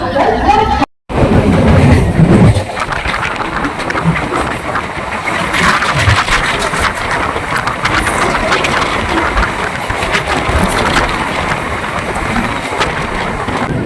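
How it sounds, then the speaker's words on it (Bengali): A local passenger train pulling out of Liluah station toward Belur, with a loud rumbling engine and wheel clatter rising into steady rolling noise close by, voices faintly mixed in. "লিলুয়া থেকে ছেড়ে দিচ্ছে ট্রেনটি বেলুরের উদ্দেশ্যে"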